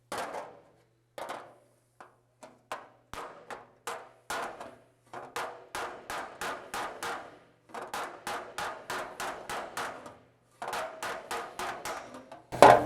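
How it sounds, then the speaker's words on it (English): A hammer strikes against a dolly on the steel shroud of an Austin-Healey 3000, working out a dent in bursts of sharp, ringing metallic taps, some single and some in quick runs, close and loud. "I'll get a special little striking tool to pop that out. This one we should be able to do with the dolly here"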